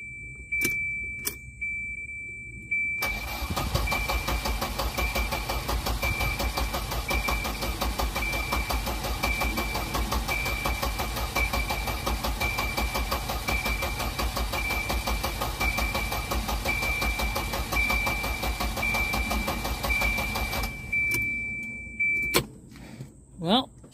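A Volvo 245 turbo cranks over and catches, its engine running loud and steady for about twenty seconds with a whining tone on top, preceded and followed by brief clicks and clatter.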